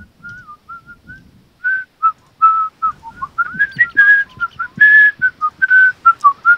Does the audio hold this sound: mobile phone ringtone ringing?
no